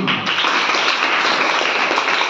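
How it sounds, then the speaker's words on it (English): Schoolchildren at a Hayatnagar high school clap for a young boy who answered a general knowledge question, a dense, steady burst of close clapping throughout with no talk over it. "Clap for him."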